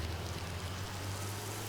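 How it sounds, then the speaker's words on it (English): Rain from a spell cast in the video game Divinity: Original Sin, a steady, soft hiss of falling water with a low hum beneath it, brief and even throughout. "Water, rain down."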